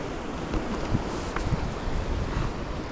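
Steady wind roars and buffets the microphone outdoors on the Barcelona coast, with a faint wash of waves underneath and no voices.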